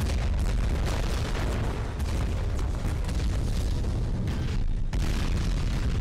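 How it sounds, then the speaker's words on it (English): A grenade going off in a video game: a loud, sustained roar of booming blast noise that fills the whole stretch, dense and rumbling, with a brief dip near the end. "A grenade?"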